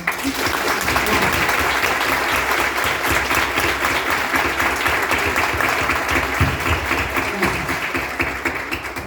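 An audience at a medical lecture on endoscopic treatment of craniosynostosis applauds, a steady, even wash of many hands clapping that holds for several seconds, with faint voices beneath.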